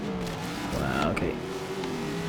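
Engine of a race car in Forza Horizon 3, from a Ford vs Holden championship event, droning steadily as it drifts through a corner, with a brief rising and falling whine in the middle and a voice talking over it.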